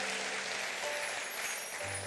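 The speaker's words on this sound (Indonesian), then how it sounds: "Tepuk tangan bagi Allah kita" A church congregation claps together in a short, steady burst of applause, heard from a distance in a large room.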